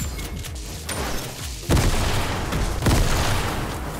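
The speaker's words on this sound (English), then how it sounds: "A lot of explosions." Explosions and heavy gunfire in Fortnite, with two big loud blasts booming over a constant rumble of battle noise.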